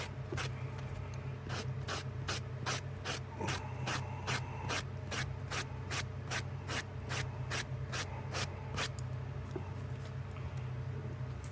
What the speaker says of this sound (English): sands down with this sandpaper